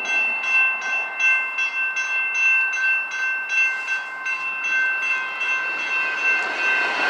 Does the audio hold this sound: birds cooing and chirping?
no